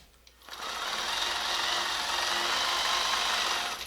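A longarm quilting machine stitches a quilt-as-you-go project, giving a continuous close whirring hum that starts after a brief quiet moment and holds steady with no talk.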